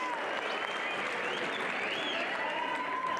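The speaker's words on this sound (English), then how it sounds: "How about a round of applause for these ladies?" Crowd at a women's fight event applauding after a split-decision bout, continuous clapping and cheering over faint background voices and whistles, moderately distant.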